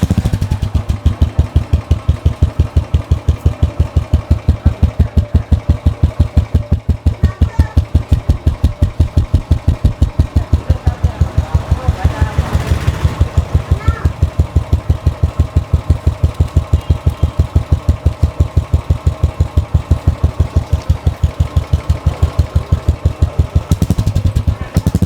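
A Royal Enfield Classic 350 with its stock silencer idles loud and close, its single-cylinder engine beating out a steady, evenly spaced thump for the whole stretch with no pauses.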